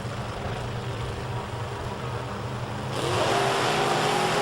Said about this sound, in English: We are set for exhibition racing here in our pro-alcohol funny car class.